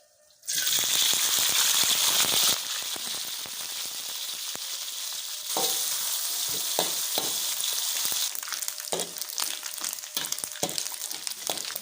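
Small anchovies (teri) frying in hot oil: a loud, continuous crackling sizzle that begins abruptly, eases slightly, then swells again with scattered popping bursts, close and alone.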